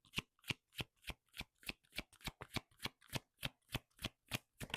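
A deck of oracle cards is shuffled close up in a quiet room, giving a steady series of about fifteen crisp riffling bursts at an even rhythm.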